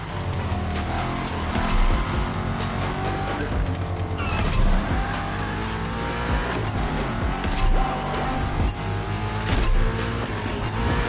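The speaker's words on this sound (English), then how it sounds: "Drifting is the best way to take sharp turns without losing speed." A car drifts along winding mountain roads in the racing game The Crew Motorfest, its engine roaring continuously with repeated tire squeals through the turns, loud and close throughout.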